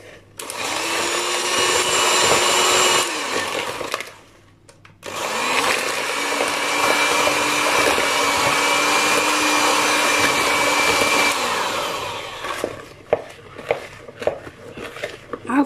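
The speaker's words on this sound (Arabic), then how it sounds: "ومعانا بقى المضرب بتاعنا، هنشتغل بقى دلوقتي اهو" An electric mixer whips a mixture in a home kitchen, running with a steady high whine in two long bursts separated by a short pause, then stopping while someone speaks.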